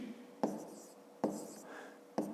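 A pen scratches across paper while a fifth-grade maths exercise is worked out, three short strokes with quiet gaps between them, close and fairly soft with no voices.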